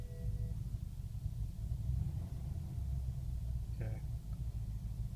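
A BMW 645ci E63 engine at its first cold start of the morning idles roughly, a steady low rumble that hunts unevenly, with a brief faint clatter near the end.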